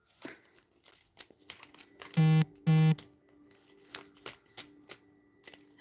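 A telephone goes off indoors with two loud, close bursts of electronic tone in quick succession, set against a quiet room with scattered faint clicks and a steady low hum.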